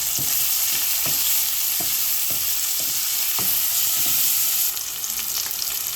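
Onions sizzle steadily in hot oil for a Bengali fish curry, with a utensil scraping and stirring in a loose rhythm, close and continuous.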